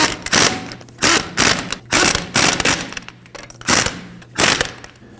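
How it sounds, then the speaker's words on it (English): A ratchet with a 21 mm socket snugs down the front shock bolts on a 2009-2014 Ford F-150, giving about eight rhythmic, close bursts of rapid metallic clicking. "We'll go ahead and snug those down in a crisscross pattern with a 21 millimeter."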